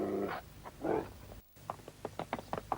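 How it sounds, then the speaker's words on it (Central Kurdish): A big dog growling in a cartoon, a few low, rough growls up close, then a run of short, choppy grunts. "ئەو سەگە گەورەیە چییە"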